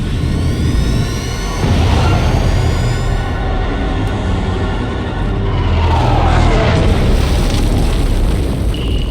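Probe droid blowing up in the Jedi Knight video game, a sustained loud booming blast with rumbling fire and crackle that fills the whole stretch, with laser-like sweeps early on.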